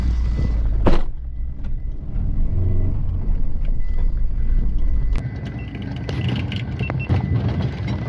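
Road vehicle engine revving up, a loud rumbling drive close by with clanks and rattles over it.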